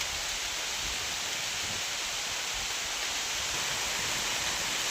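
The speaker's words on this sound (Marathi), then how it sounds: "आणि आता पाऊस यायला सुरुवात झाली" Rain falling outdoors during field work, a steady broadband hiss of drops with an even, unbroken wash of sound and no voices.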